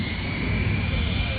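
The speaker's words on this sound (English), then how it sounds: "We'll have to wait for some of the planes to get past." Steady roar of airplanes passing overhead at an outdoor air show weapons demonstration, a continuous broad engine drone lasting throughout at moderate distance, with no break or clear pass-by peak.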